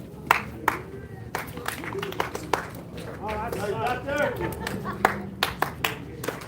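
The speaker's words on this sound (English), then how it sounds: "I have to do the clapping." Scattered claps from a small group gathered outdoors early in the morning for the Zozobra setup, sharp separate hand claps spread across the moment, mixed with people talking and moving around.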